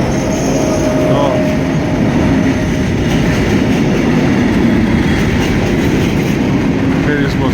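A freight train rumbles slowly past continuously with a low, steady roar and faint wheel squeal, loud and close throughout.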